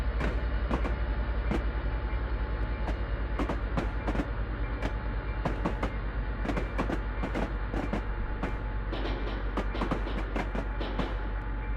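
In a train simulator game, an Amtrak Southwest Chief train rumbles steadily along the track near Chicago Union Station with a constant low drone, broken by repeated rail clicks and clacks at an uneven rhythm.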